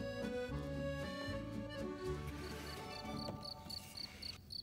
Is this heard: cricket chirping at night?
yes